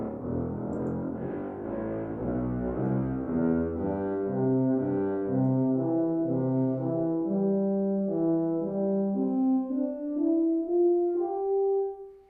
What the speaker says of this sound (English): And then we have the orchestral tools from the Berlin string series.